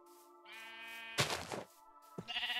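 Sheep bleat in Minecraft, several wavering calls one after another, up close, along with a short scuffing noise between them.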